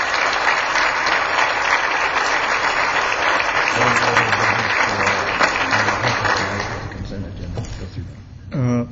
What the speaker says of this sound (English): How about a nice round of applause for our Grand Marshals for our parade?